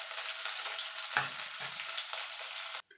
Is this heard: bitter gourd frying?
yes